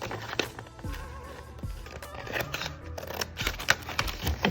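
Scissors snip through paper in a series of short crisp cuts up close, irregularly spaced, with faint rustling between.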